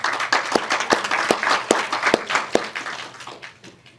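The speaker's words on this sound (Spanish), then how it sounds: "Un aplauso, por favor." Audience applause at a book presentation about state violence in Peru, held at a university: a dense patter of many hands clapping with a few sharp louder claps, steady at first, then thinning and fading toward the end.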